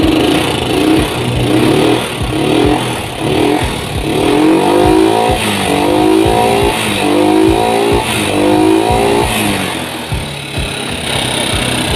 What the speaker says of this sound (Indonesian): Hidup, kita coba gas.